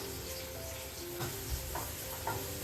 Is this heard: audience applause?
no